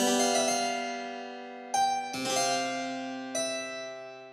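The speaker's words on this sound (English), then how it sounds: "what do you suppose it sounds like to her when he is plucking that web?" Resonant plucked string notes stand in for a male black and yellow argiope spider plucking its web, with four separate ringing plucks that each decay slowly.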